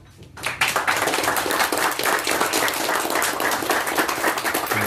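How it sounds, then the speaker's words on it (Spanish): A crowd at an event bursts into loud, sustained applause, dense clapping that starts abruptly after a brief quiet moment and continues evenly. "Un fuerte aplauso."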